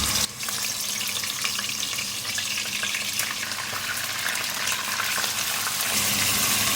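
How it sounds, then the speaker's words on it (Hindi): Beef pieces for nihari fry in hot oil, giving a steady loud sizzle that runs throughout with faint stirring noises and no talking. "गोश्त को हमें इतना फ्राई करना है कि उसका कलर तब्दील हो जाए।"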